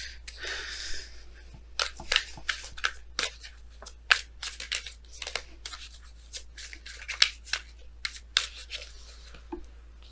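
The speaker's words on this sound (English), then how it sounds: "Let's go ahead and pull your romance angels cards for today" Romance angels oracle cards are shuffled in a close, quiet sequence of crisp flicks and soft snaps with an irregular rhythm, alone without talk.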